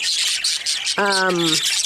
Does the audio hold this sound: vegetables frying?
no